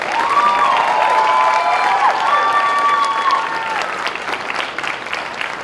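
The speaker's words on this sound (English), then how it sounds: "Let's give them a round of applause." Audience applause and cheering at a school cultural night showcase, a dense sustained clapping with whoops and shouted voices over it, loud throughout and easing slightly toward the end.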